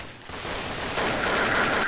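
Shotgun blasts in the Counter-Strike video game, a dense burst of game gunfire that fills the short stretch loudly and continuously.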